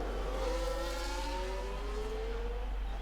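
Formula 1 race cars in the racing game F1 Manager, engines whining at high pitch as they run side by side through a corner during an overtake, a steady layered engine drone with rising and falling tones.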